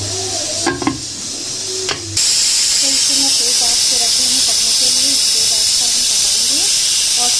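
A pressure cooker releases a loud, steady hiss of steam after a brief pause, continuing strongly with faint background voices underneath, while cooking mutton haleem.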